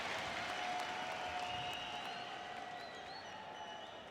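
An esports arena crowd at a semi-final match on the Mirage map cheers and applauds in a dense, steady roar of clapping, loud and continuous throughout, easing only slightly toward the end.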